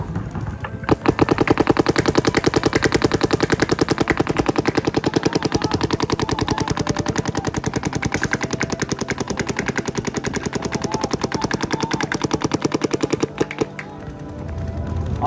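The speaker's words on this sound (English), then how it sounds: "gotta have the mask on while you're shooting paint" Paintball marker firing a long rapid stream of shots during pro practice on the field, a loud, steady machine-gun-like rattle that runs almost continuously for about thirteen seconds with only brief pauses at the start and end.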